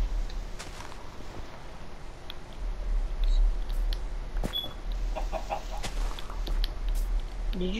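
Chickens in the Minecraft video game give soft, scattered clucks over a low, steady background rumble, with a few small clicks and taps between them and no talking.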